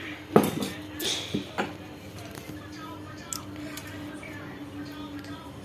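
A large metal kadai lands on a kitchen stove for cooking with a sharp clank, followed by a few lighter metallic knocks, close and moderately loud against quiet room noise.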